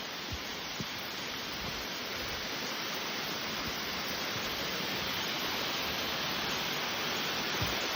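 A 200-metre-high waterfall roars in a constant, broad rushing hiss, steady and unbroken from start to end, with faint occasional thumps beneath the spray.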